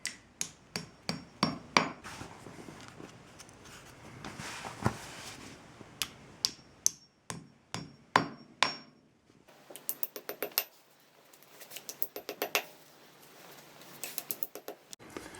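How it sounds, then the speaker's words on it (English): A hammer taps anchors into drilled holes in a concrete floor while carpet transition trim is being fitted. Sharp, close metallic knocks land in quick bursts with short pauses between them, and no one speaks. "tap them in using a hammer"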